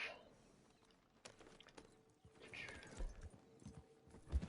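Horse hooves clip-clop in a video game as the rider travels, a steady patter of footfalls mixed with other game sounds, moderately loud and fairly close.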